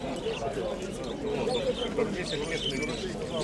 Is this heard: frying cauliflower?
no